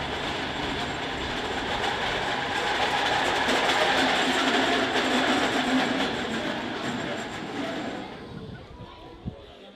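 A train on the Hoek van Holland line runs along the rails with a steady rumbling roar and faint clatter, gradually fading away toward the end.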